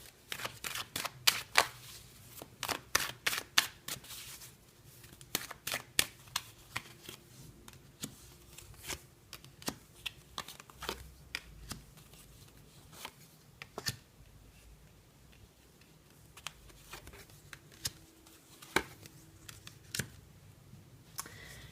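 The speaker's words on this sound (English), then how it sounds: "So we'll give the cards a good shuffle and see what comes up next to them." Close, crisp shuffling of a tarot deck: repeated riffles and sharp snaps of cards against each other in irregular bursts, with quiet pauses between.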